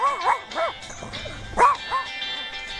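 A voice imitates a dog barking in a repeated sung sequence of short, pitched 'woof'-like yelps, delivered rhythmically as part of a children's English song.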